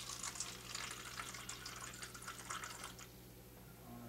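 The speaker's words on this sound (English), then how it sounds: "I'm going to put just regular tap water" Regular tap water pours steadily from a faucet, a continuous soft hissing splash lasting several seconds, faint and alone with a low background hum.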